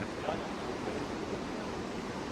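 Strong sea waves break against the rocky shore at Tanah Lot temple in Bali, making a continuous close roar of surf with a wind-like hiss. No voices or other sounds cut through.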